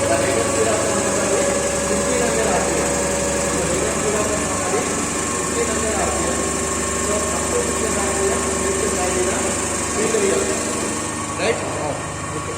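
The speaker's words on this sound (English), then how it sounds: "So I am slowly varying the field rheostat in such a way that the motor has to get the rated speed." A DC shunt motor, set up as the drive in a shunt generator magnetization test, runs steadily toward its rated 1500 rpm, giving a continuous close hum with a high whine and stable tones throughout.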